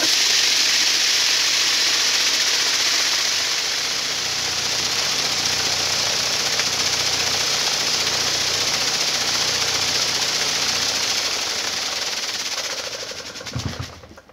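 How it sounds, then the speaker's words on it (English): A large-bowl vibratory tumbler loaded with nuts and bolts, used for DIY zinc plating prep, runs with a loud, steady rattling buzz. The noise holds constant for most of the span, then winds down and clunks to a stop near the end. "So this is my vibratory tumbler. It's a rather big bowl."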